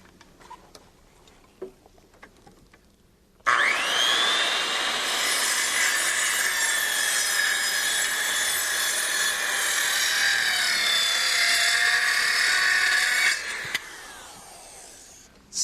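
Power saw set at 22.5 degrees cutting a miter through wood, starting abruptly and running loud and steady for about ten seconds before winding down, with faint taps before and after.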